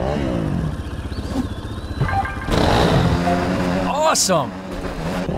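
A motocross bike engine in MX Nitro revs and whines at a steady pitch, with gear-like rising and falling tones, loud and close beneath a voice giving instructions.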